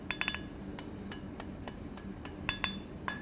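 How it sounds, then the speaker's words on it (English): Hammer blows shaping hot metal into a leaf hook at a forge, a few quick ringing metallic strikes in clusters over a steady low background hum, fairly close. "I push forward, repeatedly hammering, and then a little bit this way, and then down"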